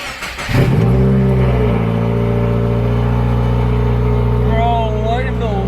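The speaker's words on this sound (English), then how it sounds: "Freaking loud. Oh my god. Dude, the turbo noise." A Subaru WRX with a new J-pipe exhaust starting up with a sharp crank, then settling into a loud, steady, booming idle with turbo whine close by, while people talk excitedly over it.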